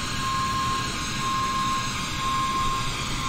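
Steady, loud jet engine roar from a Korean Air Cargo MD-11F in flight simulation, a broad continuous rumble with a thin steady whine running throughout, no talking.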